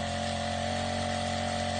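A small two-stroke grass trimmer engine drones steadily at a high, constant pitch, close by and loud, with no voices.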